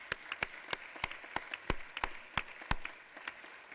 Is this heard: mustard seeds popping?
no